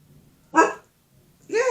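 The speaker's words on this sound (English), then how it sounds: "so you don't need to bark anymore" A pet dog barks indoors in two separate bursts, a sharp bark near the start and another louder, sustained bark after a short pause, with faint background noise between them.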